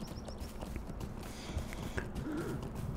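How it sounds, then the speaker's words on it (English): In the Lord of the Rings Online video game, a horse's hooves clip-clop at a walking pace under soft ambient game sound, faint and steady. "He's not a fast horse, but."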